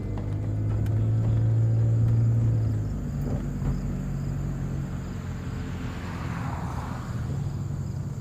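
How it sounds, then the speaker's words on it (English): A car pulls away and drives off, a steady low engine rumble with a droning tone that swells in the first few seconds and then settles into even road noise, no talk. "So I kick my car into drive and head over to my next abandoned adventure."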